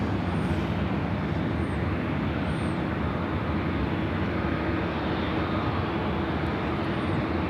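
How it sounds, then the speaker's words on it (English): A United Boeing 737-800 arriving at LAX from Las Vegas roars loudly and continuously overhead, a dense, sustained jet-engine rush with no voices. "Next arrival is that United 737-800 coming in from Vegas, Flight 2487"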